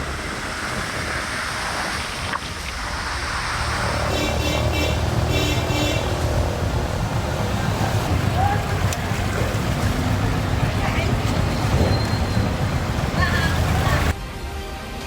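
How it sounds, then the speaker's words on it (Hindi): A swollen, muddy river in monsoon flood roars with a loud, steady rush of churning water throughout, building after the first few seconds and dropping slightly near the end. "पानी के शोर को सुनिए जो डराने वाला है।"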